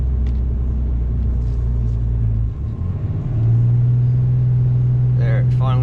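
A RAM 3500 truck with a Cummins diesel engine tows a heavy load up a steep snowy hill, a loud deep engine drone that changes pitch as it shifts to a lower gear, with a voice over it.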